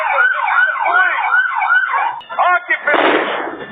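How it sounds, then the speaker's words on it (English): Police sirens wailing during a home raid, a loud rising-and-falling electronic siren sweeping steadily, then breaking off into short bursts before a sharp blast of broadband noise. "they throw on the sirens"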